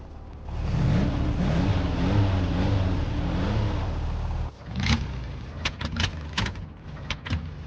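A car engine runs at a steady, loud idle for about four seconds, then cuts out, followed by a series of sharp mechanical clicks and knocks close by.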